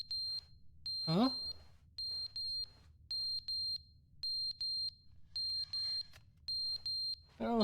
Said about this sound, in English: I don't like the beeping, no?